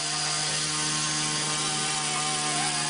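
An Axe 100 Hybrid RC collective-pitch helicopter flies on a bench test in 6-axis mode, making a loud, steady, high-pitched rotor and motor whine that holds without a break from start to finish.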